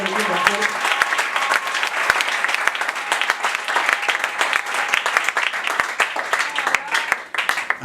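A church congregation bursts into loud, dense applause, a close wall of clapping that continues without pause before tapering off at the very end.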